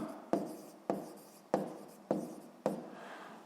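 Pen writing on paper during a sixth-grade math exercise, heard as five short scratching strokes at a steady rhythm, each starting sharply and trailing off. The sound is close and quiet, with nobody speaking.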